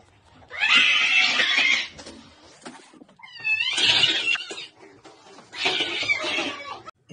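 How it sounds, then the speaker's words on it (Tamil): A cat yowls and caterwauls at its own reflection in a mirror, in three loud, close bursts of drawn-out growling meows separated by short pauses. "இந்த பூனை கண்ணாடியை பார்த்து சண்டை போடுற காட்சி வேடிக்கையா இருக்கு."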